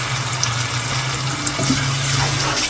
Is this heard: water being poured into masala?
yes